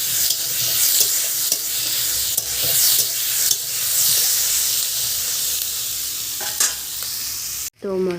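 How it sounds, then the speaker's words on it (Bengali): Spice paste frying in a pan for a tilapia curry with taro and potato, stirred continuously: a loud, steady sizzle with scraping strokes throughout, broken by a brief cut near the end. "তো মশলাটা ভাজা ভাজা হয়ে গেলে পরিমাণ মতো জল দিয়ে দেবো।"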